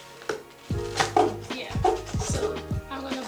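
A kitchen knife pushed into a cardboard box to bore a hole gives several close, dull thuds and scraping knocks in an uneven rhythm, with a voice talking faintly in between.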